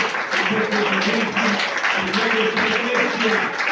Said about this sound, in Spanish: Denle un aplauso al Señor y al Señor.